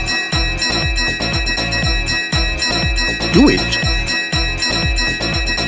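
A bell struck over and over in a quick, steady rhythm, loud and close, with bright ringing overtones sustained over a beat and a voice speaking over it.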